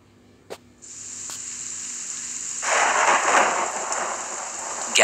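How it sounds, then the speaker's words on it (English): Heavy rain pours steadily, swelling louder partway through, with a thunder rumble near the start; no voices. "It was raining hard."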